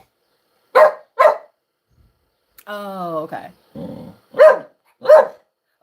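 A dog barks loudly and close in sharp pairs, two at the start and two at the end, with a brief spoken reply and a rising vocal sound between them.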